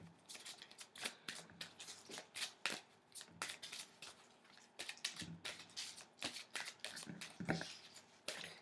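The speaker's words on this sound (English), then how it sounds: "Let me pull out a card for the whole week in its entirety" A tarot deck is shuffled by hand, with repeated quick riffles and flicks of cards in an irregular rhythm before a card is drawn, close and fairly quiet.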